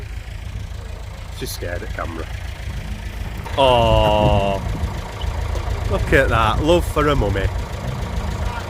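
An old David Brown tractor engine idles with a steady low rumble under outdoor talk, continuous and fairly close.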